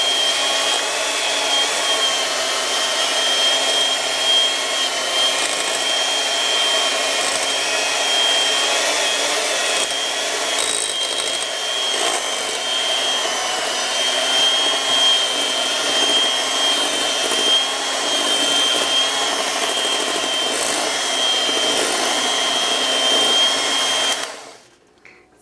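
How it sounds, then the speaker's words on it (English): A handheld electric mixer churns through ricotta for a lasagna filling, giving a loud, steady whirring drone that runs unbroken for about 24 seconds before cutting off abruptly. "So just kind of push your mixer down in the ricotta and start"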